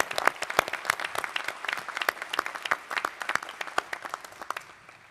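Audience applauding at a new lawyers induction ceremony, a crowd of hands clapping with distinct sharp claps standing out, holding steady and then tapering slightly toward the end.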